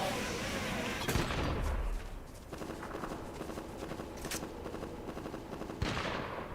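Gunfire in the video game Fortnite, with bursts of shots and booms in the opening seconds and a couple of later sharp cracks over a dense background of game sound.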